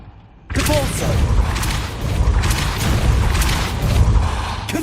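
A Depulso spell cast in Hogwarts Legacy bursts in abruptly as a loud, rumbling blast, followed by sustained booming, thudding energy that rolls on for several seconds.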